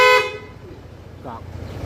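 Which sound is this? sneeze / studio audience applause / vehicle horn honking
vehicle horn honking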